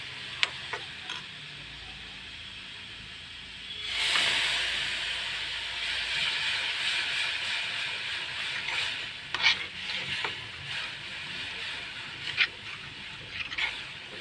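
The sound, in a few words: stirring homemade hair dye mixture in a warm iron pan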